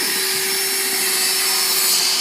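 A power drill bores a hole through the wood of a cornhole board, a loud, steady whirring grind held continuously and close up, with no talking over it.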